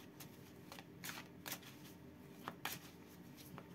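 A deck of heavy, dense oracle cards with an old-style cover being shuffled by hand, a few soft riffles and slaps in short bursts, close and quiet, with no talking.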